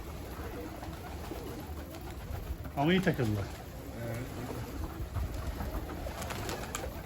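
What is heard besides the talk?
pigeons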